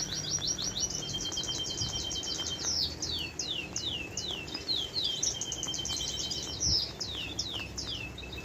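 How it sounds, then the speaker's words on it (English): Zebra finches in a garden chirp in rapid, high, repeated tweets and trills through the whole stretch, lively and fairly close over a steady outdoor background hiss. "The zebra finch."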